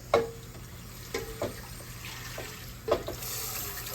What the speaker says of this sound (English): Put a little bit more water in this skillet.